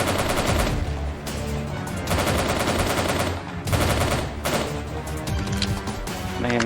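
Sustained bursts of rapid gunfire in a Soviet soldier shooter game, dense and loud for nearly seven seconds with brief gaps, mixed with crashing impacts and game noise.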